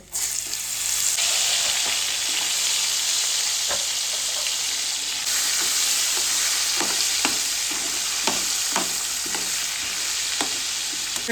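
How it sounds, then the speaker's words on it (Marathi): River crabs fry in hot oil with garlic, giving a loud, steady sizzle throughout, with scattered sharp clicks and scrapes as pieces are stirred and moved in the pan. "तर हेच खेकडे आहेत ना, त्याच्यामध्ये आपल्याला फ्राय करायचे"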